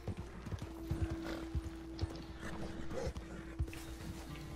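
In Red Dead Redemption 2, a horse's hooves thud and clatter close by while it whinnies, with a sustained tone running underneath. The hoofbeats come at an irregular pace over a quiet background.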